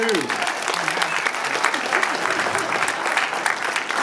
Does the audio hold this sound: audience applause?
yes